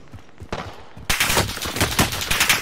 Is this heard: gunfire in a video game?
yes